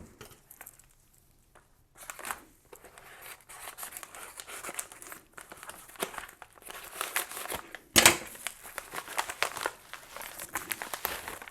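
A paper envelope holding trading cards is torn and opened up close, with crinkling and rustling throughout and one sharp loud rip partway through.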